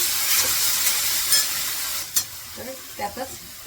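Chopped onion frying in hot oil in a home kitchen, a steady soft sizzle and hiss throughout, with a few brief louder crackles near the end.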